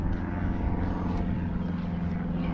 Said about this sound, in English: And there's an aeroplane.